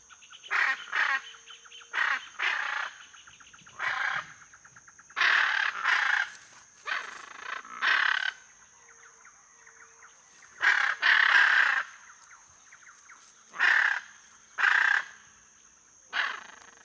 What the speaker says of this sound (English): This is the biggest parrot in the winged kingdom, the blue arara.